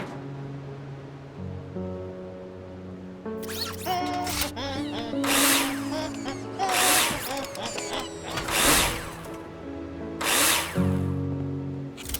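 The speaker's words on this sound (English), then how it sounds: "screw them in with a drill" A power drill in the Builder Simulator video game drives screws through metal profiles into a ceiling and floor, giving several loud whirring bursts over a steady low background hum.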